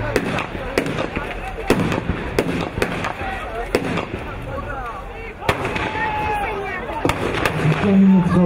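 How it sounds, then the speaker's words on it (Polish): Mortar rounds fire at a WWII battle reenactment on the Eastern Front: sharp, loud bangs roughly every second or so, several in a row, with crowd noise and an announcer's voice in the background. "Pierwsze strzały z moździerza."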